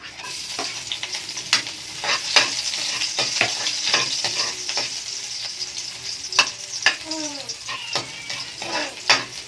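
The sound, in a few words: sautéing garlic for mung bean stew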